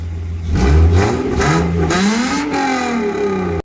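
Toyota 2JZ inline-six revving through a 2.5-inch straight-pipe exhaust with a stock rear silencer, climbing from a deep burble into loud, raspy sweeps and settling back, close and continuous with no talking.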